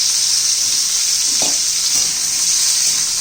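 Potato pieces frying in hot oil in a pan, a loud, dense, continuous hiss of sizzling with a couple of soft stirring knocks, close up and with no talking.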